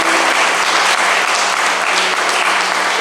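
Wedding guests in a convention hall applaud loudly during the ring exchange, a dense and steady wash of clapping from many hands with no voices over it.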